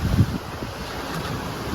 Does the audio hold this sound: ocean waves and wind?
yes